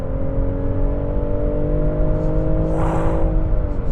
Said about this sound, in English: you're slamming the accelerator and it is going in a straight line